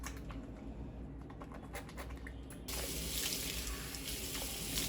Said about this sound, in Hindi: पहले मुंह धो लूं।